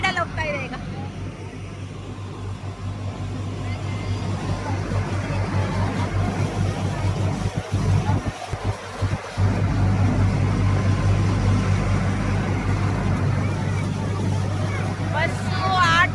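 A motor launch boat crossing open water, its engine giving a steady, loud droning rumble throughout, with people's voices chattering faintly in the background.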